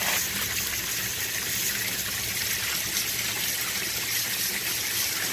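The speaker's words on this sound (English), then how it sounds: "That 24-inch spillway turned out real nice." Water pours steadily over a 24-inch spillway into a koi pond, a continuous broadband rushing splash heard close and fairly loud, with no talking.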